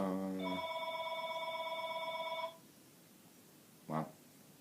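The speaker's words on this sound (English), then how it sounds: "Not answering the phone." A telephone rings in a tack shed with a steady electronic trill lasting about two seconds, then a brief second chirp after a pause, over a constant background hiss.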